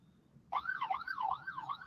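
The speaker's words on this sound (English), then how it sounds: "ambulance coming by." An ambulance siren starts abruptly and wails in a fast, regular up-and-down sweep. It is moderately close but fairly quiet overall, with faint low background noise and no speech.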